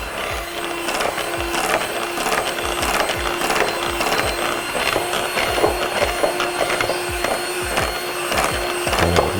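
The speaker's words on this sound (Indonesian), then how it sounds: "lalu kita kocok dengan hand mixer sampai dia kayak krim nanti" A hand mixer whips cake batter for a nostalgia cake until it turns creamy like buttercream. Its motor hums steadily up close, with constant rattling and clicking from the beaters against the bowl.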